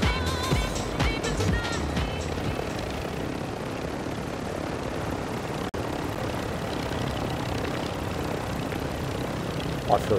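Helicopter in the video game Call of Duty: Warzone, a steady loud rotor and engine drone filling the whole stretch with game sounds and brief voices over it.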